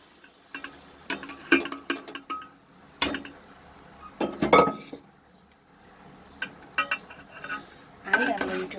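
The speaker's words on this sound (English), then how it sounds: "So now I'm going to add the keema to this rice." Minced keema being added to cooked rice in a pot and stirred for keema khichdi, with bursts of spoon scraping and metallic clinks against the pot separated by short quiet pauses.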